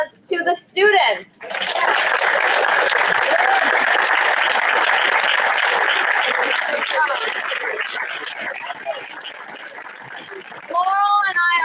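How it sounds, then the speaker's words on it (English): A room of people gives a long, loud round of applause for ninth-grade students after a mock trial, dense clapping lasting about eight seconds and tapering off, with a speaking voice before it and talk resuming at the end. "round of applause to the students?"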